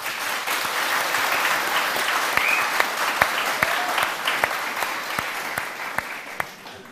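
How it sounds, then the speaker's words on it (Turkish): A crowd applauds association members and their wives at a village gathering, steady clapping lasting several seconds with distinct sharp individual claps standing out, fading slightly toward the end. "Ben öncelikle eşlerine, sonra da kendilerine bir alkış rica ediyorum."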